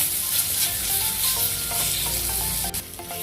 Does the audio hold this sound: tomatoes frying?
yes